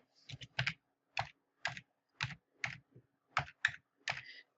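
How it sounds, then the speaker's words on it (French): Typing on a computer keyboard: about a dozen crisp, close key clicks in an uneven rhythm, some keys struck singly and some in quick pairs, in a quiet room. "je clique et je tape à bientôt."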